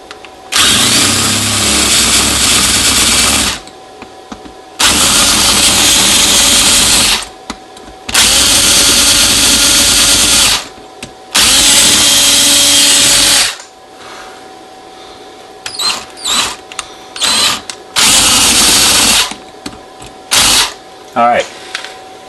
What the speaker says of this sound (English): So here's the big drill bit, and what we're going to do is we're going to drill out the end.